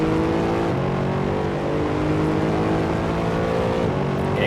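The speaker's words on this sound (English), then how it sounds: "Great sounding car this." A race car engine in the video game Assetto Corsa roars steadily at high revs, a loud continuous buzzing drone with a brief dip and pitch shift as the throttle changes, no voices.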